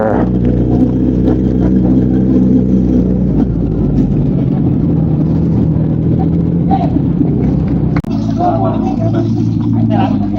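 Motorcycle engines idling and revving at a Clark International Speedway track day, a loud continuous low rumble with occasional rises in pitch, nearby and steady throughout.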